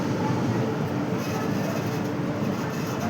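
A steady, loud rumble fills the cabin of a moving passenger train from Visakhapatnam to Secunderabad, with constant low mechanical droning and faint rattling throughout.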